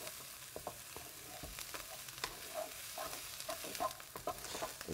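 Garlic and chili pepper fry in a pan, giving a close steady sizzle with scattered stirring scrapes and pops throughout, with no talking.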